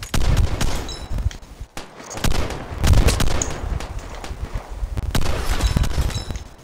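Heavy bursts of gunfire in the shooter game Vigor, several rattling volleys with short gaps between them, loud and close with booming low impacts.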